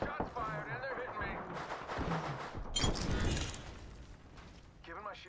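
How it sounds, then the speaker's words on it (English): Gunfire from the Apex Legends battle royale game crackles in quick bursts and single shots, loud and close, over game voice callouts and mechanical clatter. "Shots fired and they're hitting me."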